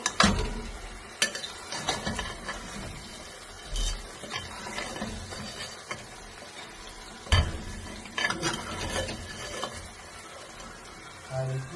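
Mutton curry masala with ground cashew and almond paste stirred in a pan, a bed of sizzling frying under repeated scraping and clanking spoon strokes against the metal, close and loud in bursts, no talking.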